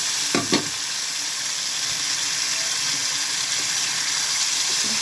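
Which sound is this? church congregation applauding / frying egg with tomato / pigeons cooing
frying egg with tomato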